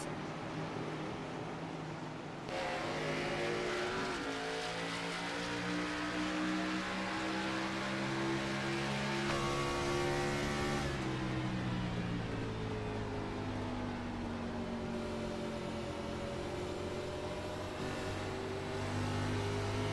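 Race car engines roar steadily in an iRacing sim race at Gateway: a thick, continuous drone of several cars side by side, with pitch swelling and dipping as they shift and run down the straightaway, and no talking.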